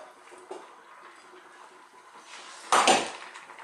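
Cauliflower pieces drop into a pan of masala with potatoes for aloo gobi, one sudden loud clattering sizzle near the end after a quiet, faintly hissing stretch.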